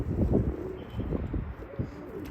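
Pigeons bathing in water just outside the coop, giving low, soft cooing in a few repeated phrases against light splashing and rustle nearby.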